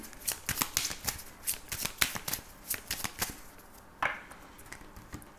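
A Petit Lenormand oracle deck being shuffled by hand, a close series of crisp riffling card snaps in quick uneven bursts, then a softer slide and a few light taps.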